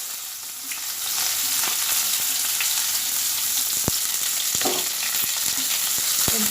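Two onions fry in hot oil in a kadai with dried chillies, giving a steady, loud sizzle throughout and occasional sharp pops and spatters.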